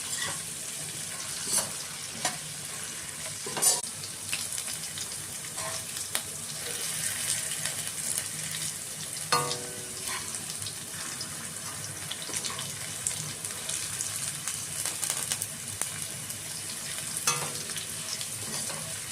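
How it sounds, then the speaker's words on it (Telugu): Potatoes frying in a pan with curry leaves and cumin give a steady close sizzle, broken now and then by scraping and knocking as the pieces are stirred, with no talk. "ఆలుగడ్డ ఫ్రై అయ్యేంత వరకు కొంచెం మధ్య మధ్యలో కలుపుతూ చూసుకుంటూ ఉండాలి."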